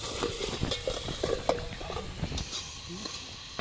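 Food stirred and fried in mustard oil at an outdoor picnic in Gazipur, giving a continuous sizzle with busy scraping and clatter close by. Faint voices blend into the background.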